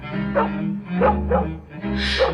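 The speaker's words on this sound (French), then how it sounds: "en reniflant et en aboyant comme un diable" A dog yips and barks several times in quick succession, close and fairly loud, with whining tones between barks.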